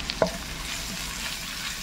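Onion and garlic sautéing in a pan for a fish-in-coconut-milk dish, a soft continuous sizzle with one brief clack of a utensil near the start.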